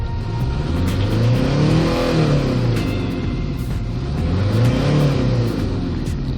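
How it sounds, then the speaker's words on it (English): A Hyundai Starex TCI van's diesel engine with manual transmission revs up twice, the pitch climbing and falling back in two smooth swells, loud and close with no talking. "Let's try to accelerate. RPMs are going very smooth."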